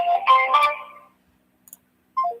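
A softphone places an outgoing call from an Austin number, and a short electronic ring tone answers near the end, coming after a stretch of talk and a brief silence.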